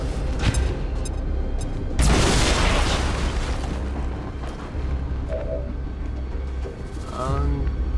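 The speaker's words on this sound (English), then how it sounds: "I'll just grenade like this. Grenade out!" A grenade detonates in the video game XCOM 2, a loud broadband boom that swells and rolls off over a couple of seconds, sitting amid steady game ambience with other effects before and after.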